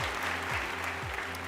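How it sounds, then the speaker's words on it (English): A short burst of steady audience clapping at a closing celebration event, continuous and moderately loud, with a low electronic hum underneath. "a big round of applause again to all of those that participated in our turnover of knowledge products"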